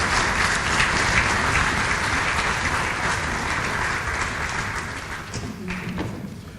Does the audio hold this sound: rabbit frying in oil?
no